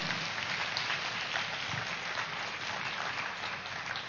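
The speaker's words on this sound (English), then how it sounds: "So big round of applause for all of them." Steady applause from an audience at the Awakening Youth Fest, a dense, even wash of clapping that holds at a constant level for several seconds with no voices over it.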